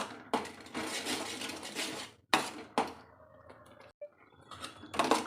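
Pineapple jam thickening in a pan is stirred with a utensil, giving long scraping bursts broken by sharp metallic clinks and brief pauses, close and moderately quiet, with no voices.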